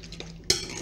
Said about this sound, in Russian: Все это перемешиваем.